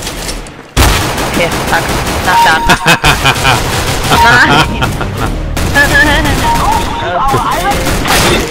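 Rapid, dense gunfire in an Arma 3 Altis Life game session, pistol shots mixed with heavier bursts and booms, loud and continuous with a brief gap, while someone speaks over it.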